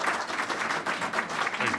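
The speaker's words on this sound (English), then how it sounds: "Give a loud round of applause for my friend, Representative Brandon Markosik." Loud applause from an audience at a state budget event on education investments, steady dense clapping throughout with some talk or cheering mixed in.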